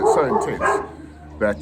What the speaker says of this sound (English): that's my dog's going nuts in the background